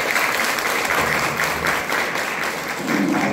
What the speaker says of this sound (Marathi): सगळ्यांनी टाळी मारून स्वागत करते